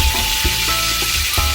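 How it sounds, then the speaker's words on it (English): Minced garlic sizzles and crackles loudly in a very hot wok with onions and green onions. The hiss is close and steady, with soft stirring knocks underneath. "it's a wok, so it's very hot. That's why it's sizzling like that."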